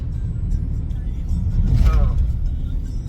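A car driving in traffic on a bridge over the Godavari gives a steady low engine and road rumble from inside the cabin, swelling briefly midway as it picks up speed, with no clear talking.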